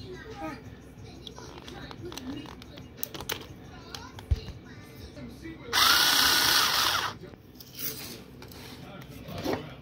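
A power drill with a number 8 socket unscrews the drain pan of a Maytag dishwasher, giving a loud whirring burst of a second or so among clanks, handling noises and brief speech.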